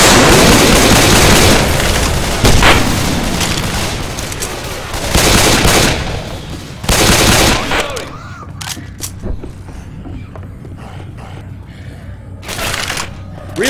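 Gunfire aimed at armored zombies in Left 4 Dead: dense, loud bursts of shooting in the first half, then scattered sharp single shots over quieter game noise, with voices calling out now and then.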